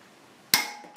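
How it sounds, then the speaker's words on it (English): A torque wrench clicking at 70 foot-pounds while tightening a socket: two sharp, loud metallic clicks about half a second apart over a quiet background. "Well, that's a loud click. All right. That is 70 foot-pounds of torque."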